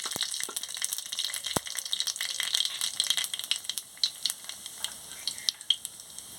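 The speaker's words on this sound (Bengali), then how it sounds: "তেলটা গরম হয়ে গেছে, কালো জিরে আর শুকনো লঙ্কাটা দিয়ে দিচ্ছি।" Black cumin and dried chillies crackle and sizzle in hot oil, a steady loud frying hiss scattered with sharp pops, close by and heard alone without talk.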